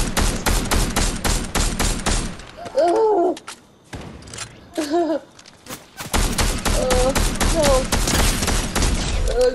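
Fortnite gunfire in loud, dense bursts of rapid shots that keep rattling, with a couple of short pauses before the firing resumes; voices speak over it during the quieter gaps.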